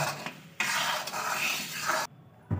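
Jaggery syrup with added sugar being stirred and cooked in a pan, a steady scraping, sizzling stir broken by brief pauses, loud and close with no talk.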